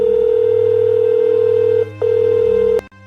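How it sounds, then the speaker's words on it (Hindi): A mobile phone rings with a steady electronic tone, a loud close beep that holds, breaks briefly, then resumes before cutting off over a low background hum. "उसका मोबाइल फाइनली रिंग हुआ"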